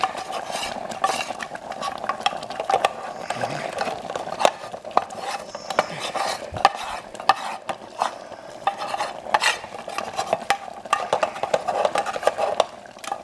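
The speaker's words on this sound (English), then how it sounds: "I'm going to add my roux into the soup." Roux stirred into pickle soup in a metal canteen cup, a steady scraping and clinking of the utensil against the cup over a soft simmering sizzle, close and continuous for several seconds.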